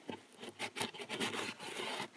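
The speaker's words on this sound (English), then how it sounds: "So I'm just taking some of this isopropyl alcohol. And I'm just going to rub some" Steady, close scrubbing as isopropyl alcohol is rubbed over an Atlas model railroad switch track to remove flux residue: repeated rough strokes in a continuous back-and-forth rhythm.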